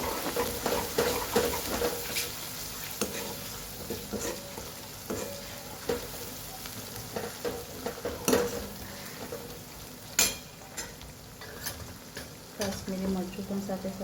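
Kashmiri chili and red chili powder stirred into sizzling hot oil in a pan, a low steady fry with scattered scraping clicks of the spoon, fairly quiet and close.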